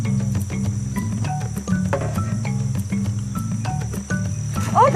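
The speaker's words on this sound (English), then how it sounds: "First, they need to catch the bait, jungle crickets." Jungle crickets in Gabon chirp in rapid, repeating pulses over a steady insect drone, close and continuous throughout, with no voices present.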